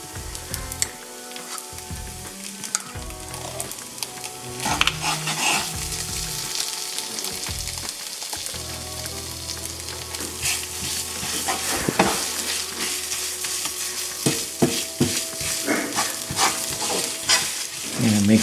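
Tomato paste being stirred into butter chicken in a frying pan: a strong steady sizzle with repeated utensil scrapes and taps against the pan, close up, no voices.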